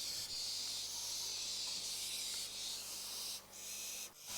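An owl gives a steady, breathy hiss at a nest box with chicks inside, continuous and close for several seconds, with two brief pauses near the end.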